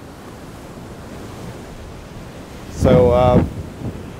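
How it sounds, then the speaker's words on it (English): Strong wind rushes and buffets the microphone outdoors on a fishing trip, with surf-like roaring throughout. A short spoken word cuts in near the end. "it turns out There's just way too much wind. It's basically impossible to be fishing right now."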